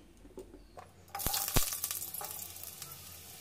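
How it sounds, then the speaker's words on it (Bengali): Potatoes dropped into hot oil in a wok burst into a loud, close sizzle after a quiet start, with a couple of sharp clinks and a steady frying hiss continuing to the end. "ওই তেলের মধ্যে এবার আমি আলুগুলোকে দিয়ে দিচ্ছি"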